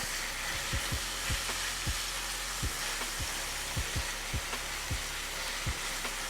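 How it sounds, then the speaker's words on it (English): Chopped onion sweating in a skillet over cooked ground beef for a cheesy taco dish, giving a steady close sizzle and hiss with scattered soft pops and spatters, and no voices. "we're going in with our onion. We're gonna sweat that down."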